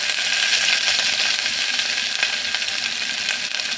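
Ginger added to hot oil alongside green chillies sizzles and fries steadily in a pan for kara pongal, a loud, dense, continuous crackle with no talking.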